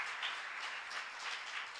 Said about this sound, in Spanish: Le podemos dar otro fuerte aplauso al Señor si tú estás confiando en Él.